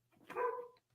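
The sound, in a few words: pet dog barking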